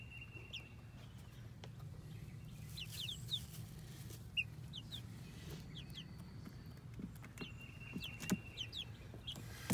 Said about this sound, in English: Out here feeding the chicken and giving them water.